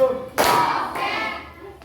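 A sharp burst of group clapping in an icebreaker clapping game, followed by a second softer clap, with a voice speaking briefly around the claps.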